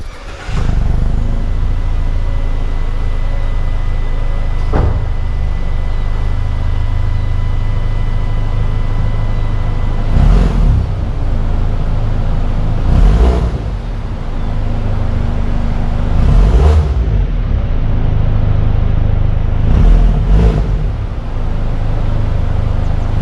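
A 2020 Mazda 3 Select running on regular 87-octane fuel sits idling with a steady, close engine rumble, broken by several short rev bursts spaced a few seconds apart.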